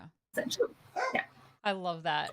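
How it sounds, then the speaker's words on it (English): A pet dog barks and yips in short bursts behind a person talking, the barks moderately close and mixed with the speech. "My dog is my alarm. I think you can hear her in the background."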